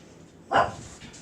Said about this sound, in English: That's my crazy dogs being dogs.